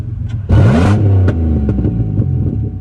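A loud, raw car engine with its exhaust cut off revs up sharply, then settles into a rough, blaring idle with an uneven, sputtering, breaking-up exhaust note.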